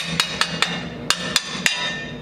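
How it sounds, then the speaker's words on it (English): A hammer taps six times in two quick groups of three, with sharp, ringing metallic strikes at close range over a faint background hum. "Hammer. Hammer."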